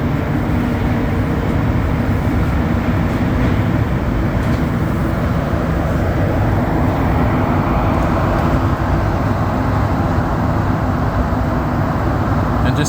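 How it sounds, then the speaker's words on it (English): Montreal Metro orange line train running southbound toward Lionel-Groulx, a loud continuous low rumble and rolling roar from inside the car, steady throughout with no talk. "we are on the orange line of the Montreal Metro heading south"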